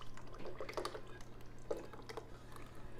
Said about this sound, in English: So we're gonna pour this all in.